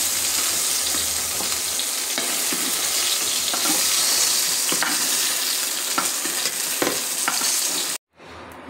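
Eggplant frying in hot oil, giving a steady close sizzle with intermittent stirring clatter throughout, then cutting off abruptly near the end.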